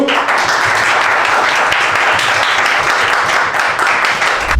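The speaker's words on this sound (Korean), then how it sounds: "박수!" Audience applause after a Korean arm wrestling match, a dense, steady wash of clapping filling the whole stretch at close range with no pause.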